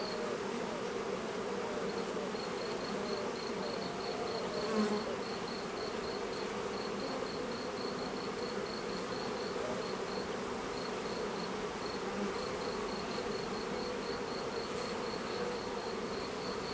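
Honey bees hum in a dense, continuous drone from an opened hive, a steady close buzz with no letup and a faint high whine running through it.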